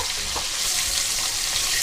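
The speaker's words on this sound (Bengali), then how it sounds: "আমি এখানে আর একটা পিঠ ভালো করে উল্টে দেব দিয়ে মাছগুলোকে হালকা করে ভেজে নেব" Pangas fish pieces sizzle steadily in hot oil in a pan, a continuous bright hiss with no voices.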